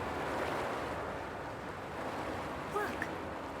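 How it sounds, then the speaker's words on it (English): Receding water in the video game Wuthering Waves comes through as a steady, broad rushing wash like surf, constant and moderately loud, with a few faint chimes near the end. "Look, the water is going down."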